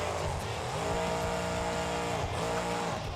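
Monster truck in BeamNG.drive at a Monster Jam freestyle event in Minneapolis, its engine roaring loud and steady with the throttle briefly blipped, pitch dipping and rising again.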